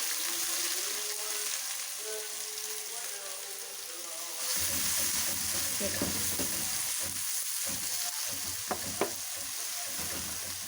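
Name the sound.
onions frying in ghee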